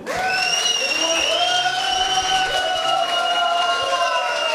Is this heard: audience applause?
yes